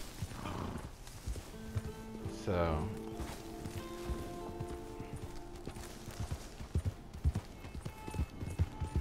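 A horse's hooves clip-clop at a walking pace in the Red Dead Redemption 2 video game, a close, rhythmic series of hoofbeats under a voice, with a brief whinny-like sound near the start.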